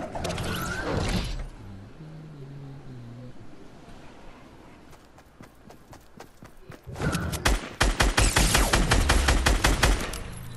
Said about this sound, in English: So you're the one who was shooting at me with that semi